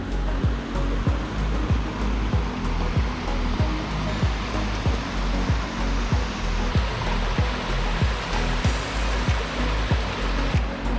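A waterfall in a California redwood forest sends up a constant loud rushing roar, heard close by and unbroken, with faint regular ticking beneath it.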